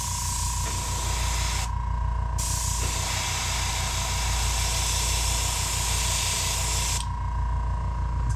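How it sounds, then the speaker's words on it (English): Spray gun applying paint to a plopper fishing lure: a steady, close, loud airbrush-like hiss that runs almost continuously, broken by two brief pauses, with a constant mechanical hum underneath. "Alright, we'll take the spray."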